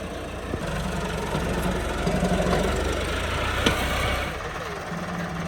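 A tractor engine runs with a steady low idle rumble and faint knocking, continuous and fairly close, with slight swells in loudness.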